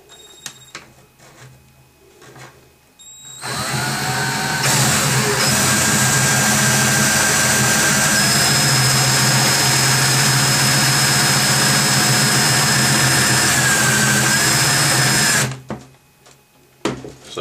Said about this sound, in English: I just drilled the top piece and it's right there.